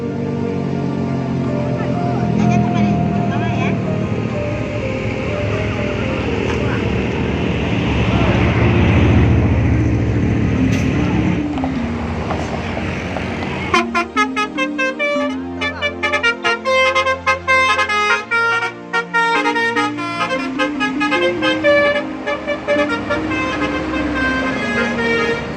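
A Palala E08 bus pulls away toward Jakarta. A loud engine rumble swells and fades, then a horn plays a long run of rapid musical toots close by.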